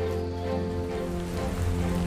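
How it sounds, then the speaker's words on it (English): Rain falls steadily in ARK: Survival Ascended on The Island, a constant patter of drops over a low humming game background with no voices. "And it's raining again."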